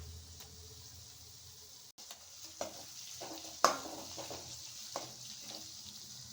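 Onions with turmeric and ginger-garlic paste fry quietly in a pan, a soft steady sizzle broken by several sharp scrapes and clinks of stirring, close and alone.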